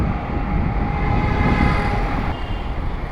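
A train at a Delhi metro station gives a steady rumbling roar with a faint high tonal whine, loud and continuous with no talk over it.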